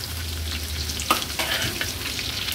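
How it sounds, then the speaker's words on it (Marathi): Garlic cloves sizzle and fry steadily in hot oil for a spicy crab curry, with a continuous close crackle, a couple of louder spits and stirring scrapes, and no talking. "फोडणीला आता लसणाच्या पाकळ्या घालते"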